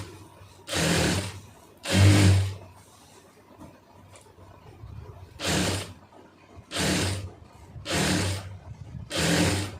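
A sewing machine stitches cloth in a tailoring lesson, running in short bursts of rapid mechanical whirring separated by quiet pauses, about six runs in all, loud and close.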